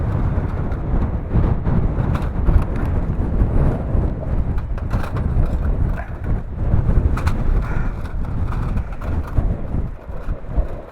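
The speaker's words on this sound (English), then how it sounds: "It's so windy here." Steady, loud wind buffeting the microphone, a continuous low rumble with gusty swells and no voices.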